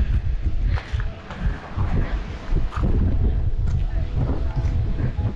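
A strong hilltop wind buffets the microphone on a dirt road trip near San José del Cabo, Mexico, roaring and gusting continuously. It is loud and low.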